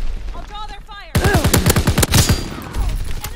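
Rapid bursts of enemy gunfire in the Call of Duty WWII multiplayer Aachen map crack out close and loud in quick succession, following a short stretch of voice-like sound.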